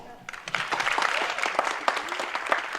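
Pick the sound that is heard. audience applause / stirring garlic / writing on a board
audience applause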